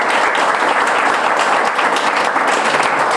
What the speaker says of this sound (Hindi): इन सभी के लिए बहुत तालियां जोर से।